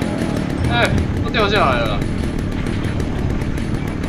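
Chainsaw in the video game Resident Evil 4, a continuous buzzing engine drone held throughout, loud and close, with a person talking over it.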